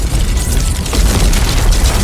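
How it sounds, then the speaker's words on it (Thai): Gilgamesh's skill in the video game Anime Last Stand sets off an explosion: a loud, dense rumbling blast effect that roars steadily for a couple of seconds without any speech. "เป็นระเบิดที่ตัวกิวกาเมสนะครับผม"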